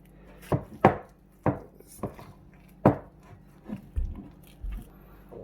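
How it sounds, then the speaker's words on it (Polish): Thick wholemeal rye bread dough stirred by hand in a bowl gives a series of irregular close knocks and soft scrapes, roughly six sharp hits spread over several seconds, with no talking. "No ale mieszamy dalej. To musi być idealnie wymieszane."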